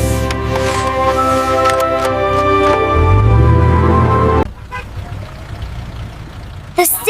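Car horns honk amid loud city traffic, a sustained tonal blare up front with engine rumble beneath, then a drop into quieter road noise and a brief final toot.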